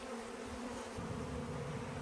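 A dense, continuous buzz of many honeybees close up at a hive entrance, a low droning hum that thickens slightly partway through, with no voices.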